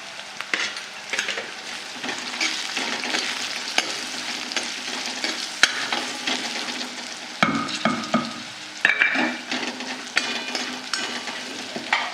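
Green chillies and spices fry steadily in a pan, giving a continuous close sizzle with occasional stirring scrapes and no voices.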